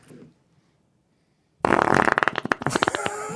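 A fart that starts abruptly after near-silence and runs as a long, loud, sputtering series of rapid flutters, preceded by a brief faint sound at the start.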